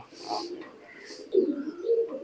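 An imported high-flying pigeon cooing close up, a few soft throaty rolling coos rising in strength toward the end.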